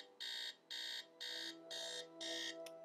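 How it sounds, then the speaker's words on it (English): An alarm clock in the Nancy Drew game Message in a Haunted Mansion rings in five loud, evenly spaced electronic buzzing bursts, each about a third of a second long, with no voices over it. "This is the worst alarm clock noise."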